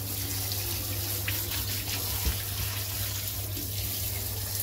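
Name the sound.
tap water rinsing blanched mushrooms to cool them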